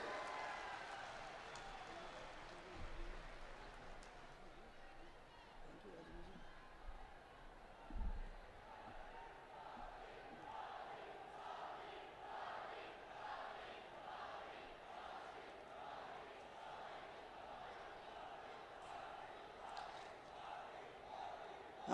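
A large outdoor political rally crowd at a Gaurav Yatra closing ceremony, with steady, distant clapping and crowd noise building over several seconds. Rhythmic rounds of applause dominate, with a few louder shouts near the start.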